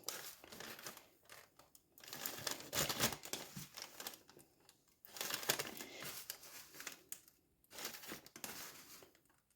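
Dry vermiculite granules pour and rustle in several bursts with short pauses, a crisp gritty trickle close to the microphone.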